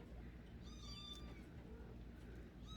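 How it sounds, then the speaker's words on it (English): Kittens and their mother cat meow from close by indoors, several thin, rising cries overlapping against a steady hiss and low background hum. "I got kittens and mama whining now"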